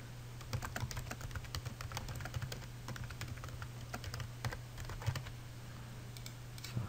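Text is typed on a computer keyboard in a quiet room, with soft, irregular key clicks in short bursts over a constant low hum and no talking.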